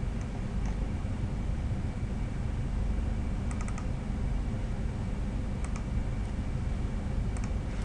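Computer mouse clicks and keyboard keys tapping, used while modelling underfloor heating pipework in design software, come as small sparse clusters of faint clicks over a steady hiss of background noise, with no talking.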